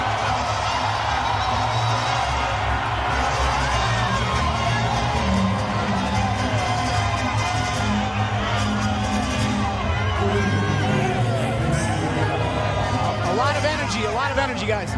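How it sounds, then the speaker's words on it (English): Boxing crowd roaring inside the MGM Grand Garden Arena in Las Vegas, a dense, continuous wall of cheering and shouting from thousands of fans, steady and loud throughout with scattered whoops rising above the din. "It is deafening at the MGM Grand Garden Arena, Las Vegas. Listen to this crowd."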